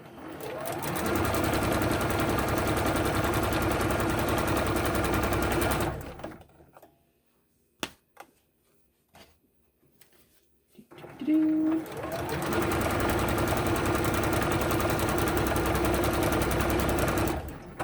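A sewing machine stitches layers of a fabric face mask in a fast, steady close whir, stops for several seconds of near quiet with faint clicks, then runs again.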